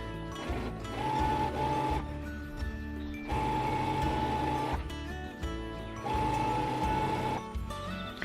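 A sewing machine stitching quilt binding runs in three steady mechanical bursts with brief pauses between, its motor whirring with a rhythmic clatter, close and moderately quiet, with no talking.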